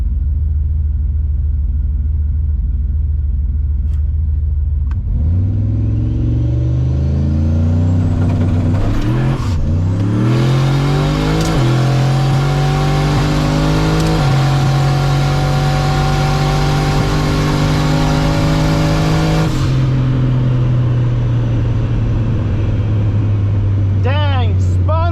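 A drag racing car launches down the strip, engine roaring up through rising revs and gear shifts with tires spinning on the hit, loud and close inside the car, then backing off; a voice talks over it.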